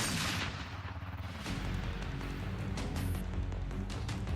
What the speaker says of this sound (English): a gunshot rings out from deep within the fog